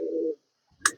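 A pigeon in a pigeon house gives one short, low, close coo, followed by a pause and then a brief rustle with a sharp click.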